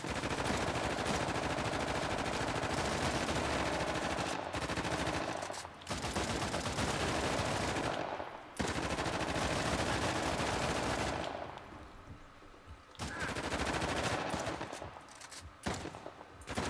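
Sustained automatic gunfire from an Uncharted: The Lost Legacy firefight rattles loud and dense, broken by short pauses and a quieter lull before bursts resume.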